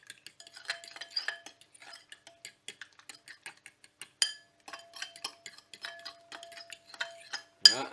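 A spoon stirs lasagne ingredients in a bowl, giving quick, close, light clinks and scrapes in an irregular rhythm in a quiet kitchen.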